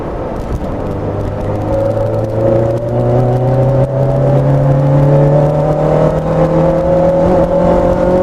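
Lotus Elise Sport 160 engine heard from inside the car while driving, a steady loud droning growl with rising tones as revs climb, gurgling continuously throughout with no talk.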